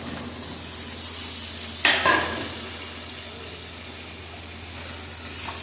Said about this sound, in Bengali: কচুগুলো দিয়ে আর বেশ কিছুক্ষণ আরও কষাবো